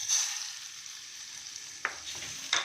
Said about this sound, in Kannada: ಇದರೊಳಗಡೆ ಒಗ್ಗರಣೆ ಹಾಕೋಣ.